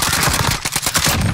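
Loud, close automatic gunfire in Warzone, a fast rattling burst of shots in quick succession with a brief dip in the middle before the firing resumes.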